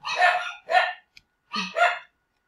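Wild dogs in a video game bark loudly and close, two pairs of sharp barks separated by a short pause, with no talk over them.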